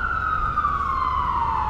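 A New York fire engine siren wails steadily in a single drawn-out tone that slowly falls in pitch, fairly loud over low traffic rumble in Zuccotti Park, NYC.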